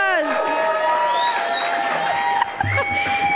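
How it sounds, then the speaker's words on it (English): An audience at a talk about HIV and a children's hospital immunodeficiency program cheers with high whoops and shouting voices. The cheering is sustained and fairly loud, with clapping not clearly distinct beneath it. "let's give Liana and Kari a big round of applause"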